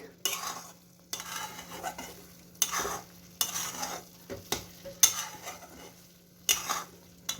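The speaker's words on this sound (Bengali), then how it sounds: "আমি এবার একটু নাড়াচাড়া করি দাও নাড়ুর পাকটা মোটামুটি অনেকটাই হয়ে এসছে" A spoon scrapes and stirs a thick coconut naru mixture cooking down with milk in a pan, in repeated bursts of scraping separated by short pauses, close and moderately loud over a steady low hum.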